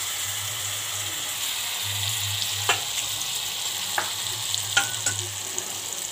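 Finely chopped onion and garlic sizzle steadily in hot oil for dhaba-style tadka dal, a continuous close frying hiss broken by a few sharp spoon clinks against the pan.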